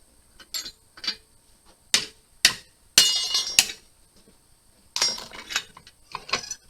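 Metal clanks and scrapes from a bench vise as its jaws are loosened and tightened on a piece of metal for a homemade trap drag, with sharp isolated knocks and a busier rattling cluster, close and moderately loud.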